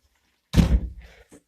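Door swinging shut in a bungalow hallway, one solid thunk with a short rattle dying away, then a faint click, close and alone.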